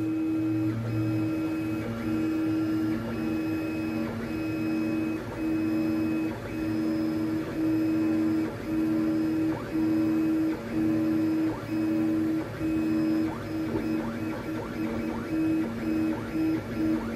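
A Makerbot Method 3D printer prints ABS at 2,500 mm per minute, a steady mechanical hum with a regular pulsing whine and faint stepper chatter, continuous and close with no talk.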